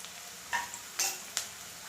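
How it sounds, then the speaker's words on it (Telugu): Pieces of bitter gourd are tipped into a frying pan of sizzling onions, giving three quick clattering drops and stirring scrapes over a steady low fry. "ఇప్పుడు దీంట్లోకి కాకరకాయలు వేద్దాము"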